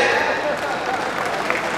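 An audience claps steadily in a dense, continuous wash of applause that runs the whole moment without pause.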